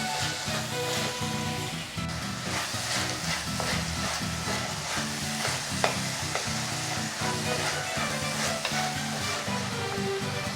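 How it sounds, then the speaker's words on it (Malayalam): Shallots and chopped tomato sautéing in a pan for a kudampuli prawn curry sizzle steadily up close, with repeated spoon scrapes and stirring taps and no voices. "ഇതും നമുക്ക് നന്നായിട്ട് വഴറ്റിയെടുക്കാം."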